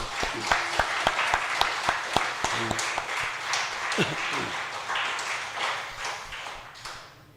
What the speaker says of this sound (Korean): 우리 교사들 애썼다고 박수 한번 해주십시오.